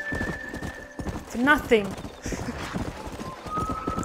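Horse hooves clip-clop in Red Dead Redemption, with whinnies rising in the middle, running steadily under someone talking over the game.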